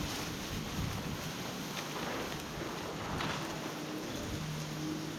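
Steady wind roars outdoors beside a boat under fresh spray paint, a continuous broadband rush with gusty buffeting on the microphone, no voices.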